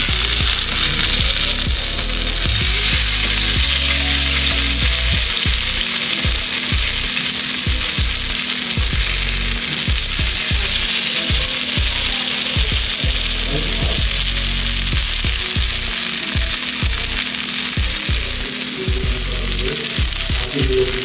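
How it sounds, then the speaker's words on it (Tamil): Marinated fish, a carp, frying on a dosa tawa in a home kitchen with a loud, continuous close-up sizzle. Rhythmic low thumps and scrapes, like a spatula working, run through the whole stretch. "இப்போ இதை வந்து ஒரு தோசை தவாவில் போட்டு நான் வந்து ஃப்ரை பண்ணி எடுக்க போகிறேன்"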